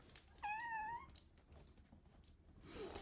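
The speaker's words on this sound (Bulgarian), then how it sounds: "Изплаш се от котката ли?" A cat gives a single clear meow in quiet indoor surroundings, short and fairly soft, with faint shuffling around it.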